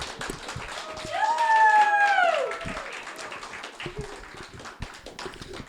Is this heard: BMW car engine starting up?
no